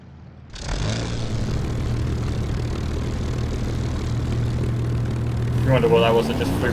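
A Eurofighter Typhoon jet in the War Thunder game sweeps past, a sustained roaring engine drone that holds steady for several seconds before swelling louder near the end as it passes close.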